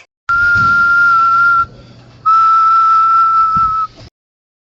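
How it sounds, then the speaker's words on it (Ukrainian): Two long, shrill toy whistle blasts held at a steady pitch, loud and close, with a brief gap between them. "А це гучний свищик"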